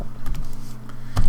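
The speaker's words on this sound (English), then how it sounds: "but now I can type in" Keys tapped on a computer keyboard while entering a date, a short run of close, crisp clicks over a low steady hum, with a slightly louder burst of keystrokes at the end.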